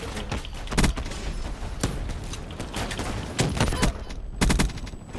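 Gunfire in Call of Duty Black Ops III, several loud bursts of shots at irregular intervals over a busy game background.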